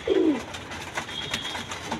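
Red patti and silver pigeons give a short, low coo at the start, followed by softer cooing calls against a steady background hum.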